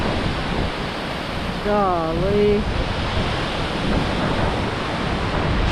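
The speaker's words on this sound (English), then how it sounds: "The waterfall is really pushing some air off." Dense, roaring rush of a waterfall mixed with wind buffeting the microphone, steady and loud throughout, with a brief spoken exclamation and a faint whistle-like tone partway through.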